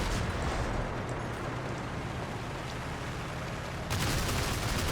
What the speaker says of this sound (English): Donga is just putting some grazing fire along the top of the ridge here.